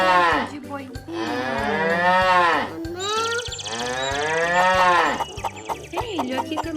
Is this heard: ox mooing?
yes